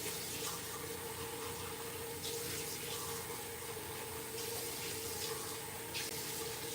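A tap runs at a sink while a makeup brush is rinsed, giving a faint, steady hiss of flowing water with slight surges.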